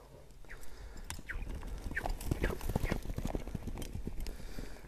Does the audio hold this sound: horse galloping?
yes